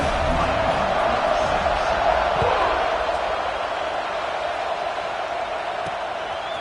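A stadium crowd roars steadily at a football kickoff after a touchdown, a dense, sustained wash of cheering with no clear breaks, heard from within the stands.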